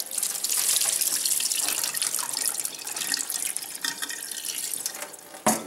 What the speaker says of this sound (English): We're going to strain this off now.